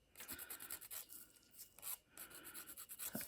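An 80 grit nail file rubbing back and forth during a dip powder nail kit application, producing faint, soft rasping strokes in a quiet, uneven rhythm.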